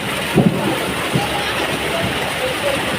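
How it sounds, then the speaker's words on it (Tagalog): Strong floodwater waves in Montalban rush and splash in a continuous loud wash, with a few sharper slaps, while someone talks over it. "Grabe ang lakas ng alon."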